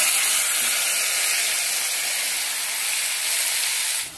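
Ground mustard-poppy spice paste goes into hot oil left from frying rui fish, and a loud, close, continuous sizzle and hiss follows, easing slightly near the end.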